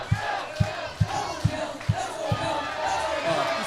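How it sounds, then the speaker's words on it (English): A crowd at a powerlifting meet chanting and cheering a 68-year-old lifter's 440-pound state-record attempt, with rhythmic stomps or claps about every half second under a loud, roaring wall of voices. "Listen to that crowd."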